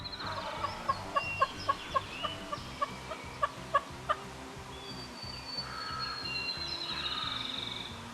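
A wild turkey gobbles in Missouri woods during a morning hunt, a burst of rapid, rattling calls followed by a few quieter clucks and a trailing call, moderately distant with no voices.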